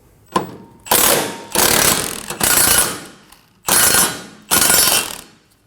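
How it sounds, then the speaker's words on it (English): A 19mm socket on what sounds like an impact gun rattles loose the bracket bolts on a Scion xB front lower control arm. Five loud, close bursts of rapid hammering come at irregular intervals, with short pauses between them and no speech. "we're going to remove these rear 2 bolts for our bracket. And we're going to loosen our middle bolt."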